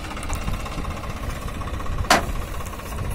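Close by, a Swaraj 744 XT tractor idles with a trolley loaded with wet dung manure, its even, knocking diesel throb broken by one sharp metallic clank partway through.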